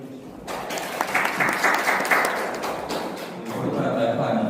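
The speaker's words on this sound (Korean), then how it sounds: "박수로 환영해 주십시오" An audience at a talk on Korea's nuclear power plants gives sustained clapping to welcome the speaker. The applause is dense and even, swelling slightly toward the end.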